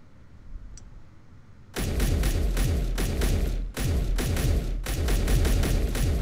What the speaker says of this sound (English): that cannon is turned towards me